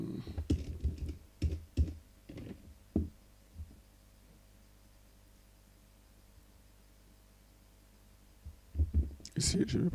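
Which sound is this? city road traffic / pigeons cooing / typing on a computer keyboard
typing on a computer keyboard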